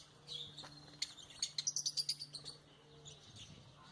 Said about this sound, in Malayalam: തത്ത പോലെ കുഞ്ഞു തത്തകളാണ്